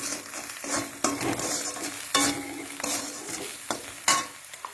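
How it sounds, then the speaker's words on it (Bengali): Potato mixture with turmeric being stirred in a frying pan: a soft continuous sizzle with repeated scraping strokes of a utensil against the pan, several louder stirring clicks spaced about a second apart, no talking. "হলুদটা পরিমাণ করে দেবে তারপরে হালকা নাড়িয়ে নেবে"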